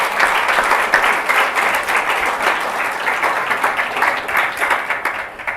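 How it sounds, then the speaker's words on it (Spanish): A church congregation applauds loudly and continuously for several seconds, a dense crowd of clapping hands with a few cheers mixed in. "Dale un aplauso al Señor."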